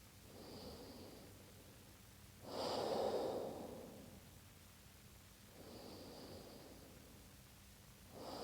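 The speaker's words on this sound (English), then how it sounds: "Take 2 more deep breaths." Slow, deep breaths during a gentle yoga practice, about three long inhale-exhale cycles with soft airy rushes and a slightly nasal edge, close and faint with no talking.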